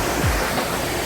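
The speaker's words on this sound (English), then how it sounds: "The amount of water flooding into the canyon by this stage was mind-blowing." Muddy flash-flood water surges into a steep-sided canyon, a loud continuous rushing roar like a waterfall, with no voices heard.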